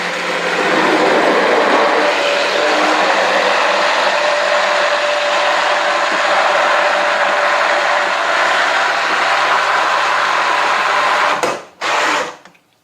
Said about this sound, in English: basically half blending it down